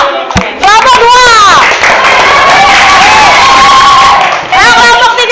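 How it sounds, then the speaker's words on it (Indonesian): Participants in a group training session applaud loudly for a team, a bright burst of many claps mixed with cheering and excited shouting voices that fills the room for several seconds. "Tuh, tepuk tangan kelompok saya yang kedua."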